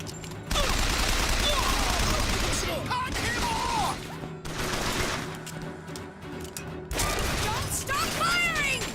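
Gunfire in the video game BioShock Infinite: sustained bursts of shots and clanking mechanical noise crowd the scene at a loud, steady level, with in-game voices calling out over the fighting.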